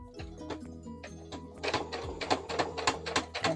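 A sewing machine back stitches fabric for a pet bandana, its needle chattering in a soft rhythmic run that grows busier and louder after a brief start, close and alone.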